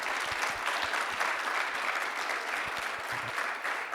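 A seated audience gives steady, even applause for Tarini Mohan after an onstage conversation, with dense clapping at a constant level throughout.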